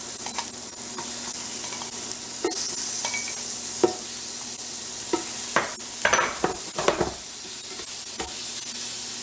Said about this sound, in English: Now I'm going to go in and get my shrimp going and saute these off